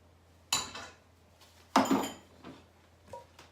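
Butter dropped into a large frying pan, heard as a few sharp clattering knocks of utensil and metal pan, with quieter taps in between and no talking.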